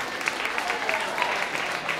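Audience applause at a live true-story storytelling event, a steady wash of clapping from a crowd of listeners that holds evenly for the full two seconds with no talk over it.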